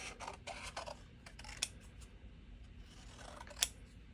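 Paper pieces trimmed to size with scissors for a handmade birthday card, a run of close snipping and rustling with a couple of crisp sharper cuts, quiet and with no talking.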